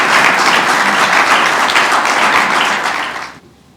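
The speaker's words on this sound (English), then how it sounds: "You can now clap." An audience at a sustainability conference applauds in a loud, dense burst of clapping that holds steady and then fades out quickly.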